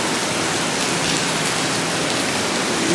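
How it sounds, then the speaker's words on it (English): Heavy rain falls outside on a warm evening, making a dense, steady, loud hiss that stays constant throughout with no voices. "it's crazy big, crazy rain out there"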